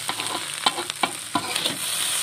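A spatula scrapes and clacks against a pan while fried rice with fish meatballs sizzles, with a few sharp taps in an uneven stirring rhythm.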